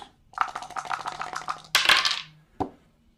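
HeroQuest combat dice rattling and clattering on a table for a defense roll, a quick flurry of small plastic knocks, a louder tumbling burst, then a single final clack; close and fairly quiet.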